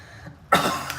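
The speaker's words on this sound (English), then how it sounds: "There's the cough." A single short cough, close and abrupt, after a quiet moment, trailing into a brief rough exhale.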